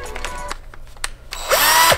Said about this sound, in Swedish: skruvdragare. Och borr.